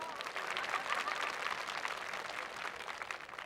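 Audience applause at a Hindu saints' gathering in Jodhpur, a steady wash of many hands clapping at moderate distance, holding even for a few seconds with no voices over it.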